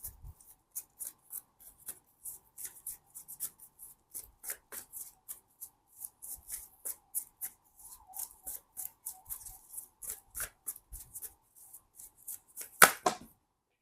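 Tarot cards shuffled by hand, a long run of crisp, rapid riffling and slapping bursts in an irregular rhythm, close and fairly quiet against a near-silent background, ending in one louder snap.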